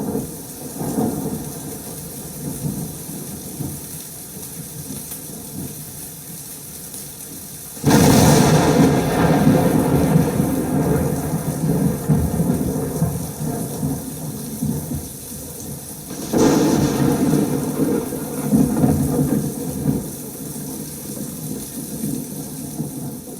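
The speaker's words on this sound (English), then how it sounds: "the sound of a clap of thunder" Thunder cracks sharply and then rumbles on over steady rain. A second clap follows later, loud and close, with no voices.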